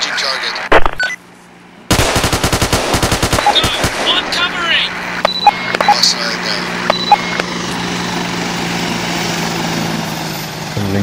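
Rapid bursts of machine-gun fire rattle out in the video game Arma 2: Operation Arrowhead, with scattered single shots and metallic pings, under a steady mechanical hum. Speech is also picked up here.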